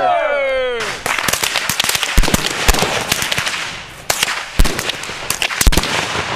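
Rifle volley fired on a 500-yard firing line: a brief whistling tone, then a rapid, irregular string of loud, sharp cracks and bangs, close and echoing, with a few heavier reports standing out.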